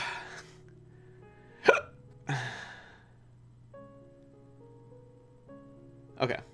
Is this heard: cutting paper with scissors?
no